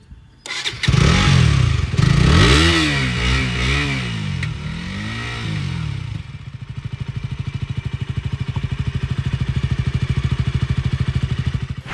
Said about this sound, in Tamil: உங்களுக்கு நேச்சுரலான சவுண்டில் இந்த வண்டியோட சவுண்டு வந்து எப்படி இருக்குது அப்படின்றத நான் காட்டுறேன்.